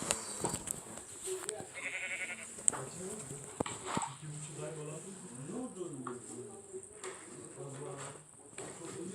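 Sheep bleat in the video game Minecraft, several wavering calls rising and falling through the clip over a busy backdrop of game noise and insect-like chirping.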